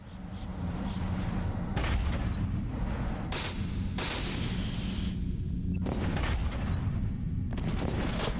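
Trebuchet and bubble field cannons firing in the mecha video game Dolls Nest: repeated heavy booming blasts, some several seconds apart, over a constant loud rumble of in-game noise.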